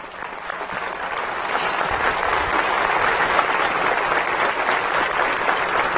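A large crowd applauds during the Cuban president's Moncada anniversary speech, a thick continuous roar of clapping that swells slightly and stays loud throughout.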